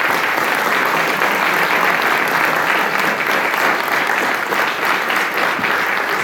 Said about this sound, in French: Je vais les applaudir.